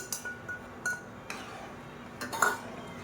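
A spoon scrapes and clinks against a metal pot of porridge in scattered strokes, a few sharper knocks among quieter stirring sounds.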